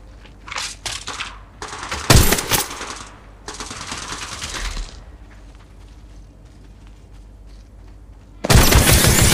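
Gunfire in the mobile game Apex Legends Mobile comes in several rapid automatic bursts and loud single shots, sharp and close, separated by short pauses, with no talking.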